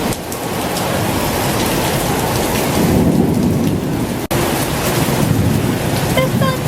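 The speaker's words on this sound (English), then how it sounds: "There's thunder! And that is thunder." Heavy rain pours steadily outdoors in Bangkok at the start of the rainy season, with thunder rumbling low through the downpour, one deeper swell midway and a brief dropout before the rain resumes.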